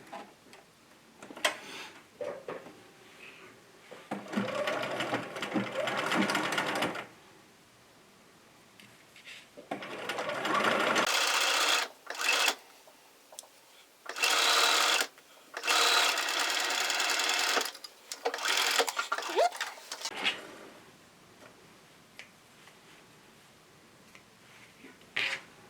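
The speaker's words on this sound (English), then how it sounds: "we're going to stitch right down that edge" Sewing machine stitching down the bias binding edge of a small fabric potholder, running in several close, steady bursts of rapid mechanical ticking separated by brief stops and quiet handling sounds.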